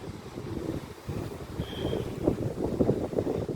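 Strong wind gusts buffet the microphone at a seaside marina garden in Kuwait, a rough, rumbling blustery roar that swells and surges throughout with no one speaking.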